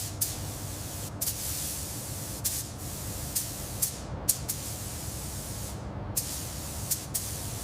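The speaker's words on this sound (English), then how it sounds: "Make sure the gun is perpendicular to the panel for the final pass." Spray gun laying paint on a car body panel of a pastel blue 1962 Peel P50 microcar during restoration: a steady close hiss of atomized spray runs throughout, broken by several brief pauses and bursts between passes.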